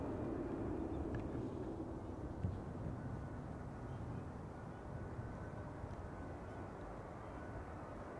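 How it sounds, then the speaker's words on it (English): A KLM airliner arriving at Amsterdam Schiphol Airport produces a faint, distant low engine rumble that holds steady and slowly eases over several seconds. "Now it's KLM flight 604, obviously. Arrival from LAX."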